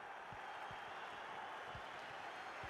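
Constant crowd roar in the FC Mobile 25 football video game, a broad even wash of stadium noise with scattered low thumps and faint claps throughout.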